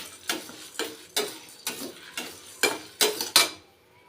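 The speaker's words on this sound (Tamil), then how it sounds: "இந்த பருப்பு வந்து வாசனை வர வரைக்கும் அல்லது கொஞ்சம் கலர் சேஞ்ச் ஆகிற வரைக்கும் இதை நான் வறுத்துக்கிறேன்" Lentils and roasted gram are dry-roasted in a pan and stirred in about eight evenly spaced scraping strokes, each a short rasp of spoon against metal, close up with no talking.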